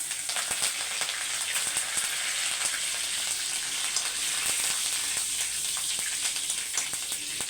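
A single dried red chili fries in hot oil, a steady, close crackling sizzle with faint pops throughout and no speech.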